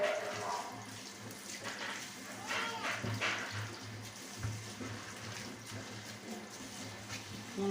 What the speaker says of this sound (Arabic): لازم نتاكد ان هو مغسول كويس جدا وننزل كل الرمل اللي فيه